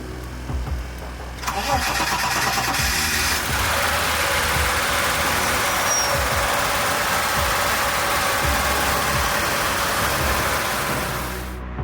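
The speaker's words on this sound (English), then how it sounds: "Firing up the C62 is nearly aircraft-like in the number of steps." A Koenig C62, a road-going conversion of the Porsche 962, cranks and fires after a short quiet lead-in, then settles into a steady, loud, even idle with a rough mechanical texture.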